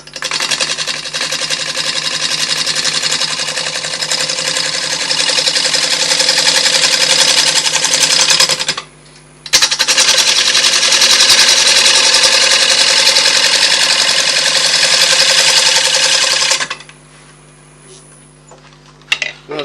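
A Sorby 3/8 bowl gouge rounds the edge of a wood bowl spinning on a lathe, a loud steady whirring scrape in two long passes with a brief break, then the motor winding down.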